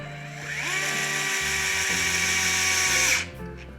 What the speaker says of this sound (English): Now we've got the red cover back in, and it's time to cinch these screws.